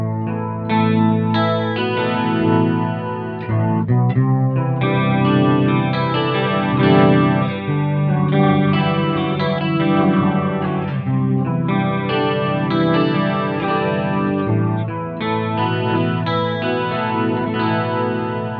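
Sustained electric guitar chords through a BOSS MO-2 Multi-Overtone pedal in mode 3, rich and shimmering with a heavier low end, playing continuously without any talk.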